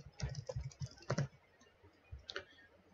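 Quiet typing on a computer keyboard as a table name is entered: short clustered bursts of key taps separated by brief pauses, close and alone.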